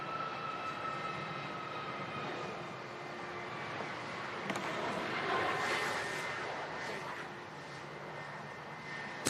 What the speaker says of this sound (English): Off goes this Ryanair 737 MAX 8 200.